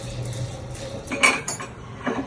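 A small ladle clinks against a pan while tempering spices, a few light metallic taps and scrapes near the mic over a low steady background hum.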